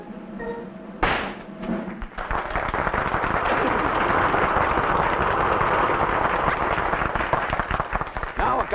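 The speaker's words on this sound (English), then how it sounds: "Now prepare for some real shooting here." Rifle shot fired at a swinging pendulum and target disc at a sharpshooting exhibition: one sharp crack followed by a long, loud, rumbling wash of noise, with faint voices beforehand.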